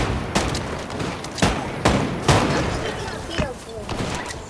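Rapid video game gunfire, with bursts of sharp shots and heavier impacts at irregular intervals, loud and dense, while people talk over the action.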